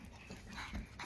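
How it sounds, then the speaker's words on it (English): Several dogs whimper and scrabble while climbing up onto a person, with soft yips and rustling at close range in a short, busy burst. "The dogs are all trying to climb up on me."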